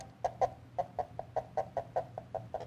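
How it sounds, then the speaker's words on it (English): A turkey gobbles in a rapid series of about a dozen short, clucking calls in a steady rhythm, faint and somewhat distant, with no talking. "That's a turkey, all right."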